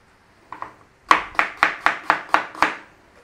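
A knife slices through a cored apple on a cutting board: two light taps, then seven crisp, evenly spaced chops in a steady rhythm, close and clear against a quiet background.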